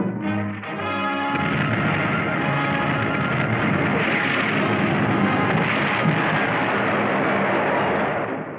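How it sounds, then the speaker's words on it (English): Gunfire aimed at a surfaced World War II submarine, a dense continuous rumbling barrage heard loud and unbroken over several seconds. "They've got a nerve shooting at us."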